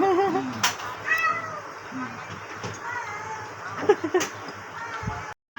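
Several unneutered stray cats meow loudly and repeatedly in Samut Sakhon, calls rising and falling over background talk, with a brief silent gap near the end.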